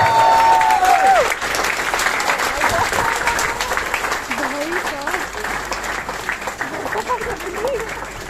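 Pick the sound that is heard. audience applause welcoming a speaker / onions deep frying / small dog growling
audience applause welcoming a speaker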